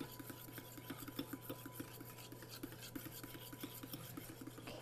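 Whisk stirring a pumpkin breakfast mixture in a bowl, a steady quick rhythm of soft scraping taps against the sides, faint and close, with a low background hum and no talking.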